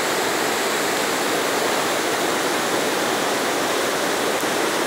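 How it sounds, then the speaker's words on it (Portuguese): Floodwater from the Acaraú River in Sobral pours over the dam wall near the Otton de Alencar bridge, a loud, unbroken rushing roar like a waterfall. "As águas por cima aqui, ó. Da parede, do barramento,"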